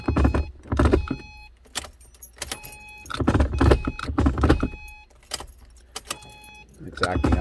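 A bunch of keys jangles against the ignition of a 2012 Subaru Impreza whose key won't turn off or come out, in repeated bursts of close metallic rattling mixed with thunks inside the car.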